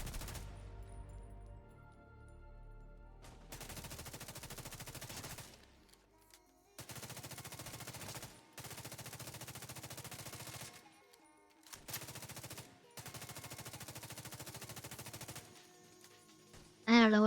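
Sniping and rifle fire in The Division 2, heard as several sustained bursts of shooting separated by short pauses, fairly quiet overall, with a brief louder electronic sound at the very end.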